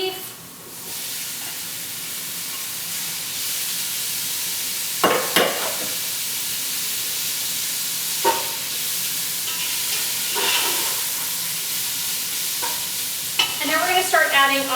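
Ground beef sizzles steadily in a pan during pasta sauce cooking, broken by several distinct scraping bursts as it is stirred and pushed around. The sound is close and continuous, with no speech over it.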